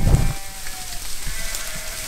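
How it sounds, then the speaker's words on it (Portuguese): Young ewe lambs bleat faintly on a farm, with soft wavering calls at moderate distance over steady rain-like background noise and a low thump at the start. "Aqui estão as borregas."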